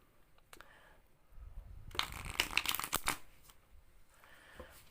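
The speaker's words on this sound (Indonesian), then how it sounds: "Akan Clarissa shuffle kartunya." Playing cards shuffled close up, a short burst of quick riffling flutters in the middle with softer card handling before and after, no talk.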